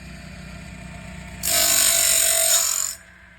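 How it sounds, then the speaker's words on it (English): A Woodland Mills sawmill blade sharpener grinds a blade in one loud, bright, steady burst lasting about a second and a half, rising abruptly out of a low mechanical hum and cutting off just as sharply. "It's a blade sharpener. We just got it all set up. It seems to be sharpening real good."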